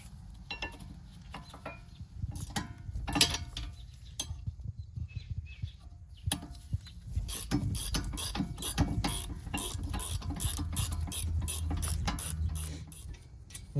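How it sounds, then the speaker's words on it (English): A ratchet wrench works the two 13mm brake bracket bolts loose on the rear brakes of a 2018 Ford Ecosport, giving a close run of rapid mechanical clicking in bursts with brief pauses, then a steadier stretch of ratcheting. "There are 2 13mm bolts. You would remove those next."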